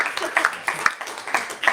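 Scattered clapping from a small audience at a panel on K-12 schools, a few sharp distinct hand claps in an uneven rhythm, fairly close and loud.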